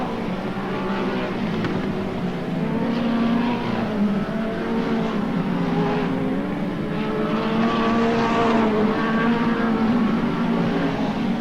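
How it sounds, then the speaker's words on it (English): Several midget speedcar engines drone and whine together without a break on a dirt track, pitch rising and falling as the cars circle at a steady, loud level. "The 1989 New South Wales Speedcar Championship right here at the Clayway, the action track"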